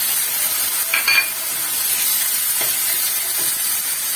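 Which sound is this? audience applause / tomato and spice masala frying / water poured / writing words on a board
tomato and spice masala frying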